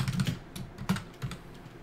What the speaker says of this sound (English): Where are you typing at?